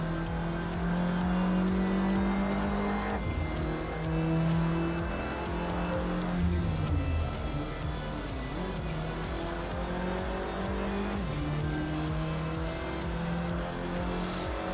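A car braking and cornering in a driving test, engine revs rising and falling with gear changes and brief tire squeal through the turn, heard steadily from close by without voices.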